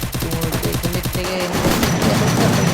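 Rapid bursts of gunfire from a video game shooter, dense repeated shots in a fast rhythm that turn into a sustained, louder barrage, close and prominent with no talking.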